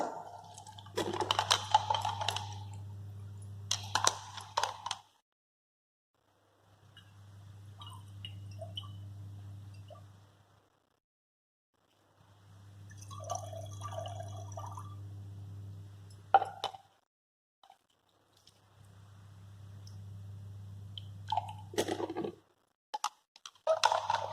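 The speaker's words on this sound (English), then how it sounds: "Wash the beaker 2 to 3 times. Collect the washings into the volumetric flask." Water trickles and splashes in short bursts as a laboratory beaker is rinsed and the washings poured into a volumetric flask, separated by quiet pauses with faint clinks of glass, recorded close by.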